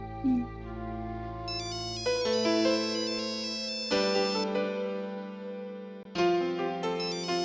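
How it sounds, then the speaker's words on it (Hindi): A bright electronic phone ringtone melody plays loudly and steadily, its chiming tones repeating in cycles with no voices over it. "नैतिक जी का फोन है।"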